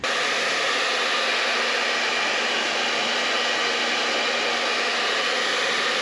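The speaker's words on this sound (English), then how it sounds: "then you use hair dryer" A hair dryer blows steadily at close range while heating vinyl wrap on a Can-Am Spyder, a loud constant rushing hiss with no breaks and no talking.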